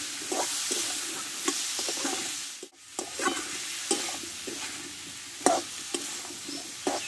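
Spice paste is stir-fried in a pan with fish head and pumpkin, a low frying hiss under repeated scraping strokes of a spatula that come every half second or so, with a few sharper knocks against the pan.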